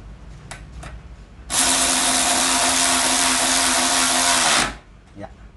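A Nagawa NRW16 cordless ratchet tightens a bolt with a loud, steady motor whir lasting about three seconds, cutting in sharply and then winding down, with a few faint clicks before and after.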